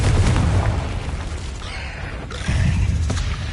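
A Confringo blasting curse explodes in Hogwarts Legacy, a wizarding game, with a heavy rumbling boom that rolls on continuously, a second deep surge following midway through, loud and close with no voices.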